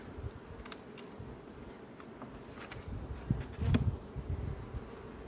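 Bees buzz around nearby, a steady low drone that swells louder for a moment before settling back, with no voices.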